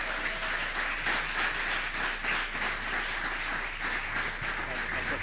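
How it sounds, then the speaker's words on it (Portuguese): Congregation clapping in church, a continuous, fairly distant patter of many hands under a low steady hum, with voices faintly mixed in. "As palmas louvam ao Senhor."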